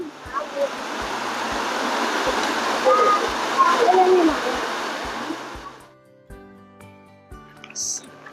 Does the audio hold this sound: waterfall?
yes